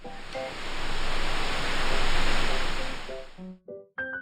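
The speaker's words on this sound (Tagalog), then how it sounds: "Ang ganda ng alon, oh." Ocean surf breaking at a surfing beach in La Union, a broad hissing roar that swells and fades, then gives way to a few short tonal sounds near the end.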